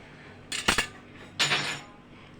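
Crispy breadcrumbs poured from a cup into a bowl, two short rattling, clattering bursts close by, with a brief pause between them against a quiet background.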